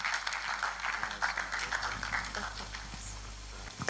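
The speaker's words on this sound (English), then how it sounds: "A round of applause until he gets here." An audience claps at a Nigerian political gathering, a steady patter of many hands at moderate distance that gradually thins toward the end, with a low hum underneath.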